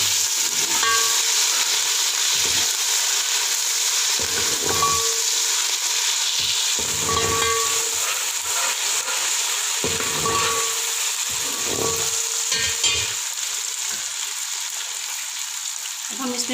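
Browned onions frying with chopped green chili and ginger garlic paste for beef pulao, giving a constant loud sizzle and hiss with intermittent stirring scrapes and clinks, and a voice talking through parts of it.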